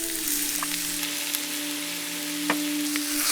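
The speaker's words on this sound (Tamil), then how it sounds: "அந்த தண்ணி எல்லாம் நல்லா சுண்டுற அளவுக்கு ஆட்டு ரத்தத்தை நல்லா வறுத்துக்கலாம்" Goat blood pieces fry in a pan with a steady, close sizzle and occasional pops and light stirring scrapes, no voices present.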